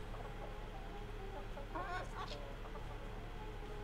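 Chicken clucking in the video game Ark: Survival Evolved, a few short clucks near the middle over a steady low game hum, fairly faint.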